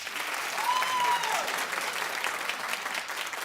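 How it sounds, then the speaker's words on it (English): An audience breaks into clapping at a comedy show, a dense, steady wash of applause holding level throughout with no pause, heard from within the crowd. "Clap if you have a home phone because you have kids."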